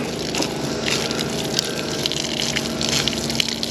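A power washer sprays a continuous loud, hissing jet of water during cleaning on a vintage car farm, with a steady pump drone underneath and no break for the full stretch.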